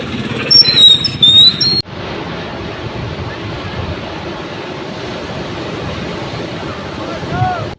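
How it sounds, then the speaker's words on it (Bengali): Morning ocean waves on Puri beach, a continuous wash of surf with wind buffeting the microphone, preceded by a brief burst of whistling and other sounds before an abrupt cut. "এই হচ্ছে মানে একদম সকালের সমুদ্র দেখুন"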